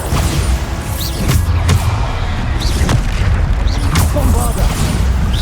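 Booming spell explosions from the Bombarda charm in Hogwarts Legacy, several heavy blasts in quick succession over a dense, loud battle din with crackling debris.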